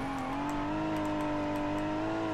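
Steady engine drone from an Ibishu Celtia in BeamNG Drive, held at a constant pitch while being short-shifted manually, with a continuous loud whir and no talk over it.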